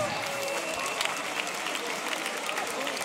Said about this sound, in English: Make some noise for NaPoM